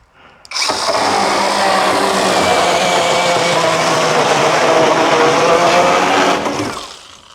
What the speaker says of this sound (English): And I'm gonna try this little handheld saw, this CC saw that I just showed you guys